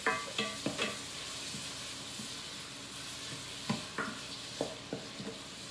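Chopped onion cooking in a hot pan over high heat, with a steady sizzle under repeated clacks and scrapes as it is stirred.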